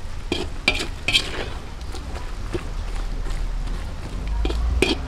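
Pork adobo with string beans stirred in a pot during outdoor cooking, with clattering scrapes and knocks of a utensil over a bubbling simmer and low outdoor rumble.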